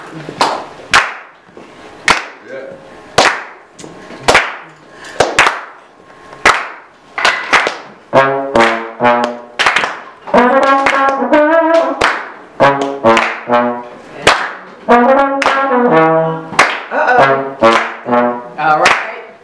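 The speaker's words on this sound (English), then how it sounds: "clap with me" Rhythmic, spaced single claps ring out sharply, close and loud, while a voice speaks and sings between and over the beats.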